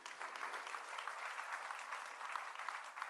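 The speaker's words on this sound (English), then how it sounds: "A big applause to the first three speakers." Steady applause from a conference audience at a digital health event honors a panel of speakers, a dense, continuous patter of many hands heard alone from start to finish.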